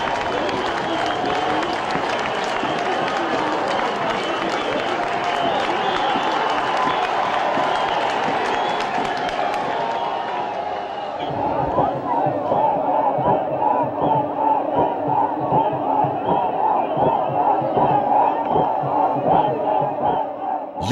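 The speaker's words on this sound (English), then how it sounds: "the spectators go all out to cheer and support their respective teams till the finishing" Spectators at a snake boat race on a river in Aranmula, Kerala, cheer and shout loudly in a dense, continuous crowd roar, with rhythmic chanting emerging in the later part.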